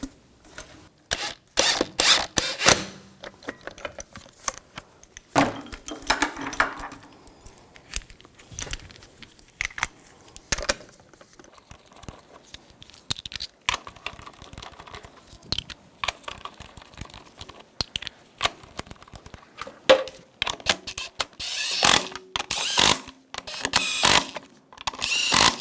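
Metallic ratcheting and clinking as lug bolts are run in and snugged on a BMW X5 front wheel, in bursts of quick clicks and rattles with pauses between, close and fairly loud.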